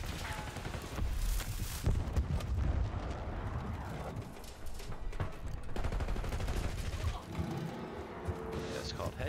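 Heavy gunfire and explosions in the Call of Duty Black Ops 6 video game, with sniper shots among them: loud, continuous booming shots and blasts, and a player's voice talking over the action.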